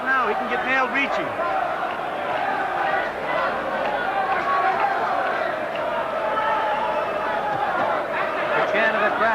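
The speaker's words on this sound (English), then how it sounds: "The chant of the crowd." A boxing crowd chants throughout the Barry McGuigan vs Steve Cruz fight, a loud, sustained rhythmic roar from the arena with commentators talking over it.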